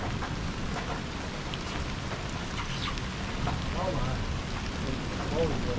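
Steady rain pours down on a city street during a thunderstorm, with low rumbling thunder rolling underneath the constant hiss and a few brighter rain taps.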